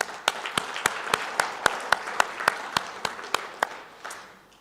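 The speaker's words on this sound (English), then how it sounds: "let's give them a round of applause." An audience gives a round of applause, a sparse, regular clapping with sharp individual claps spaced about a quarter second apart, fairly close, dying away near the end with no talking over it.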